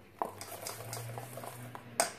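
Light clinks and scrapes of a utensil against a bowl while mixing a cake mixture until smooth, with a soft steady hum underneath and a sharper clink near the end.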